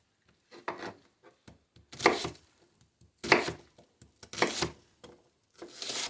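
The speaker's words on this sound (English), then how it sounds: "we are going to cut our onion. We're going to cut it into about 1/2-inch cubes" A knife chops through an onion, cutting it into half-inch cubes for a breakfast skillet, in several short, crisp bursts of quick strokes with brief pauses between them, close and fairly clear.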